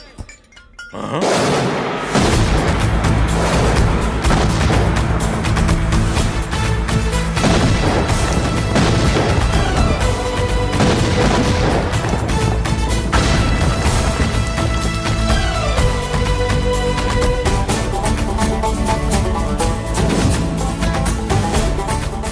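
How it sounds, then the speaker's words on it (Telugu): Loud, dense crashing blasts of bombs going off in a Telugu comedy film scene, thick and continuous for over twenty seconds after a brief quiet start, with layered booms and debris over a constant roar. "బాంబులు అప్పుండ్రీ."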